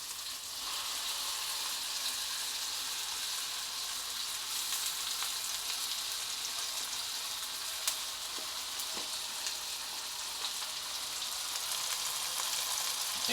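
Bagoong shrimp paste fries with caramelizing onion in a pan, making a steady, dense close sizzle that holds evenly throughout, with a couple of faint utensil ticks and no voices.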